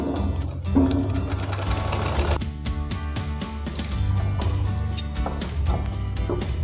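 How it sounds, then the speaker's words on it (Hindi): A sewing machine stitches a strip onto a simple blouse, running steadily and close with a dense rhythmic mechanical chatter that continues through the whole stretch without a break. "तो इस तरीके से हमने सिलाई कर ली है।"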